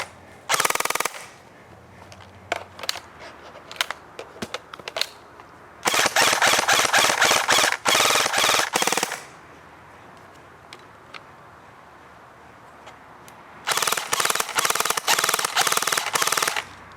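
An ICS airsoft gun fires three loud full-auto bursts, each a dense rattling stream about one to three seconds long, separated by pauses that hold faint handling noise.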